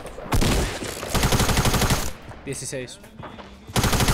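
Rapid gunfire rattles in a Fortnite Battle Royale squad match, loud bursts of automatic shots with brief gaps and a short lull in the middle, while a player speaks briefly.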